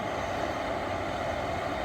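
Electric train, drawing power from overhead wires, pulling out of a station: a steady, dense rumble and hum that stays loud and close, with no voices.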